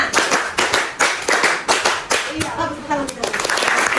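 A primary school class claps together in a counting clap game during an Islamic religious education lesson, sharp unison bursts in a quick rhythmic pattern up close, with children's voices briefly joining near the end.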